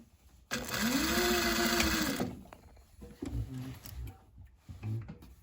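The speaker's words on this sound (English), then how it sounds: "Sewing our ends off as we go" A sewing machine runs along the edge of a fabric bag in a single close burst of about one and a half seconds, followed by soft handling and fabric rustle.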